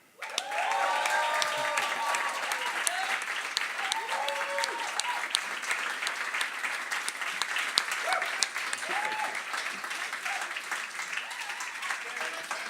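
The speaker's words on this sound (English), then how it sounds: "So if you can make some lovely applause and stuff for them." Studio audience at a live comedy show applauding as guests are brought on stage, a steady dense wash of clapping lasting throughout, with a few whoops and voices mixed in.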